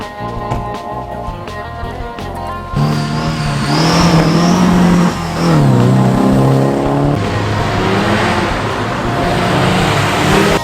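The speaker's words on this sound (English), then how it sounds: "incredible classic Porsche 911 resto mod" A classic Porsche 911 restomod at Oulton Park during a classic car rally, its engine revving hard close by and loud, the pitch rising and falling through repeated throttle blips after a quieter start.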